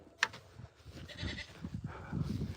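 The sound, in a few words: goat bleating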